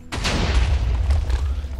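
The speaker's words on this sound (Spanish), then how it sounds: "Esas explosiones que hago cada 2x3 no me gustan nada" Explosions in modded Minecraft (Resonant Rise 3 pack): a sudden loud blast followed by a rolling, rumbling boom that sustains for nearly two seconds without talk.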